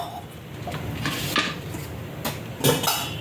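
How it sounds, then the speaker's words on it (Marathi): A spoon stirs thick horse gram flour batter in a metal pot, giving close, irregular scrapes and clinks against the pot sides, with no talking. "असं ढवळत राहायचं थोडं"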